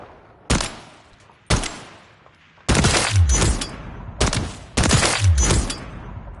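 Semi-automatic gunfire in Call of Duty MW3, with about six sharp, loud single shots spaced irregularly, some close together in pairs, ringing into short echoing tails, with no talk.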